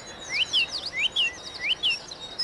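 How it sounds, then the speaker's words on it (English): A wren's bright, rapid song of sharp rising notes run together into a quick trill, repeated in bursts against a quiet outdoor background. "Wren in the distance there with that little trill that goes through the middle of it."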